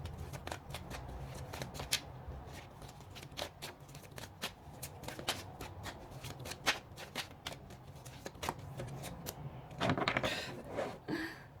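Tarot cards being shuffled by hand, a steady run of crisp riffling clicks and flutters up close, with a brief louder flurry near the end and no talking.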